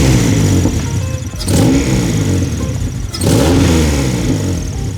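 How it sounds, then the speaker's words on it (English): Honda Civic engine, part of a JDM build with a suspected exhaust leak, idling roughly then surging twice in loud revving bursts at close range, with a rattly, uneven note between surges. "The car is surging a little bit, as you guys can hear."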